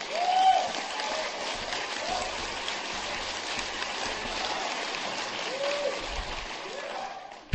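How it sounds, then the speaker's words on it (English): An audience claps steadily through a talk about recovery from alcoholism, a dense, even patter of many hands held at moderate loudness with no voices over it. "People don't always clap when you say that."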